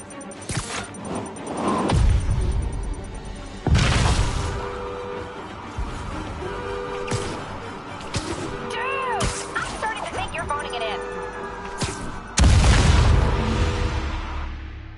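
Bomb blasts in Marvel's Spider-Man, several loud booming hits spaced a few seconds apart, with city ambience and a voice talking between the explosions.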